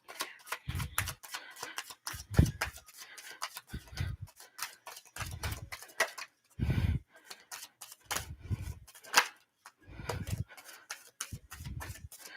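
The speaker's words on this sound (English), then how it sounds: "two more shuffles and let's see what we get." Tarot cards are shuffled in a series of quick riffling bursts, each a brief crisp flutter separated by short pauses, close and fairly quiet.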